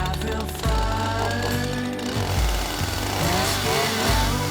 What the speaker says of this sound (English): let's get started with the chainsaw and try to free this